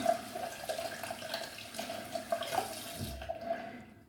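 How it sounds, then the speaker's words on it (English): Tap water runs in a steady close stream into a sink to wet a shaving brush, with a few splashy changes before it cuts off near the end. "So I'm gonna wet the brush, and we can go right to it."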